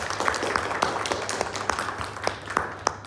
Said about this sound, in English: so just give you guys a round of applause.